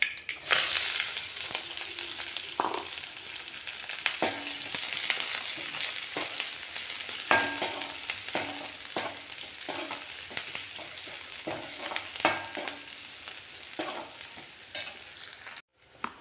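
Steady sizzling and crackling of chili and shallots frying in hot oil, continuous and close, with occasional louder pops and no voices.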